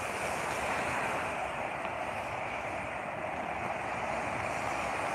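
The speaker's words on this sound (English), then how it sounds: "It's really pouring out here, man." Heavy rain pours outdoors in a dense, steady roar of broadband hiss that fills the whole stretch without letup, close and loud.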